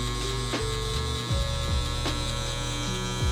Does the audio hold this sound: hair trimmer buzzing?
yes